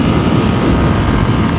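A Ducati Streetfighter V2 motorcycle riding in third gear on a cold morning, its engine a steady, loud, continuous drone mixed with heavy wind rush and no pauses.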